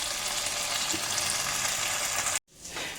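Mutton chops fry in a pan with a loud, steady, dense sizzle that fills most of the moment before a brief cut, then resumes more softly.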